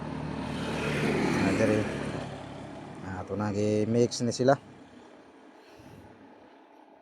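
Motorcycles on a highway beside a rural home pass with a broad engine roar that swells and fades in the opening seconds, then a voice speaks over the quieter road background.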